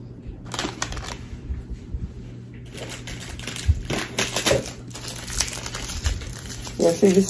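Sticky tape being pulled and handled on a dollar-store DIY Easter basket, crinkly tearing and rustling bursts up close, with brief speech mixed in.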